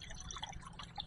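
Water poured into a pot on the stove for super spicy ramen, a soft continuous splashing and trickling, close and fairly quiet, with no talk.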